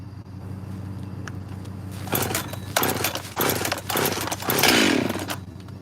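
A chainsaw cutting wood runs loud and close, its engine revving and bogging in surges that grow harsher toward the end, with no speech.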